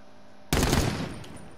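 A single loud burst of automatic gunfire in Call of Duty: Modern Warfare breaks out of quiet background and decays over about a second.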